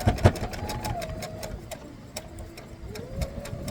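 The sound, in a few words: sewing machine stitching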